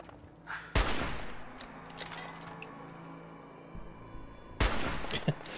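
Two sharp, loud sniper rifle shots in the game Fallout 4, about four seconds apart, each followed by a short echoing tail, with faint clicks and rustles in between.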